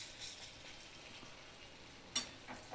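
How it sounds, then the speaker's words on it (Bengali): Chana dal bori frying in oil, a soft, faint continuous sizzle with a sharp scrape or clink as a piece is flipped near the end. "প্রত্যেকটা বড়ি এইভাবে উল্টে পাল্টে ভাজা করে নেব।"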